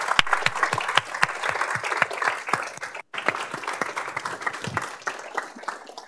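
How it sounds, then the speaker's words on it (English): An audience at a physics lecture series claps in sustained applause, many hands crackling densely and steadily for several seconds with one brief break, no speech over it. "Let's give another round of applause for all of them."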